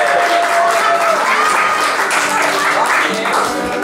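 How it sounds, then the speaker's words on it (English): A crowd at the Marrs Bar, a Worcester live music venue, applauds loudly and continuously after a band introduction, with cheering voices mixed into the clapping. "we have a big round of applause from the Marrs Bar"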